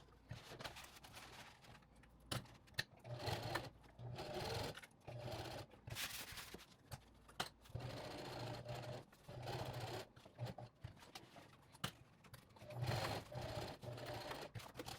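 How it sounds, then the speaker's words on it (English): A sewing machine stitches fabric tabs onto a tactical chest rig, running in bursts of rapid mechanical whirring broken by short pauses as the material is repositioned, fairly quiet and close. "I'll take it over to my sewing machine, and I'm just going to sew about 1/8 of an inch from the edge"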